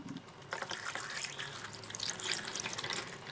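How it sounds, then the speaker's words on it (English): Water runs steadily from a tap into a container for about three seconds, a continuous broadband splashing and gurgling that grows slightly louder as it fills, close by, with no talking. "Go ahead and fill the rest with water."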